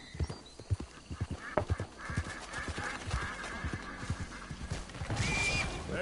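Horse in Red Dead Redemption 2 clip-clopping with a run of close, irregular hoofbeats, followed by a whinnying neigh and snorting near the end, all without any talk.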